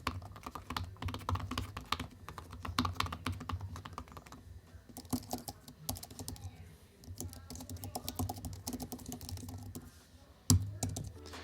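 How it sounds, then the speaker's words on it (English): Steady typing on an Apple Magic Keyboard, its keys giving crisp, satisfying clicks in quick irregular bursts, close and clear with brief pauses and a sharper thump near the end. "the Magic Keyboard actually has a really nice satisfying click"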